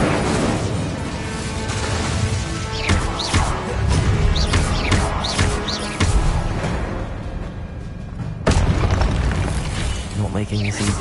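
Incendio fire spells cast in Hogwarts Legacy on PS5 make repeated loud booming, whooshing bursts amid dense game effects and music, with a voice speaking over them.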